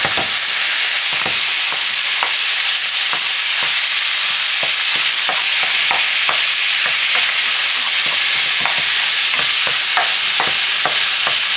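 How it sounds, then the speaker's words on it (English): Ground beef browns in a pan with a packet of onion soup mix, giving a loud, continuous close-up sizzle broken by regular light clicks of stirring, with no voices. "A pack of onion soup mix as my ground beef is browning"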